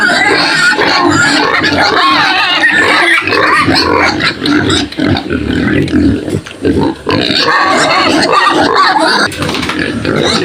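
Pig with a hernia, kept on a small farm, grunting and oinking loudly and repeatedly up close, with other pigs' noises mixed in and a person talking throughout.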